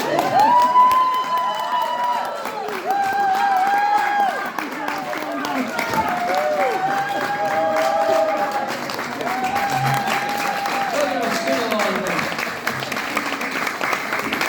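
An audience claps and cheers after a live music show, with scattered whoops and shouting voices mixed into the steady applause, continuing at a lively level for well over ten seconds.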